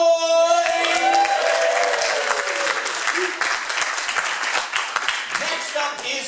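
An audience at a poetry event applauds and cheers for a judge, a dense wash of clapping with a few whoops, loud at first and gradually thinning, with a voice speaking over the start.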